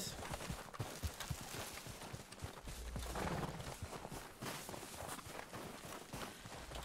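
Horse hooves clip-clopping in a steady walking rhythm in the video game Red Dead Redemption 2, fairly quiet, with some soft background sounds around them.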